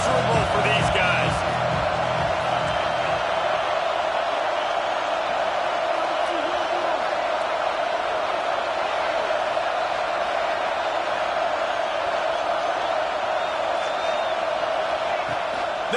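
Stadium crowd in the NCAA 25 college football video game, a steady, full roar of fans held at constant level throughout, with a commentator talking over it.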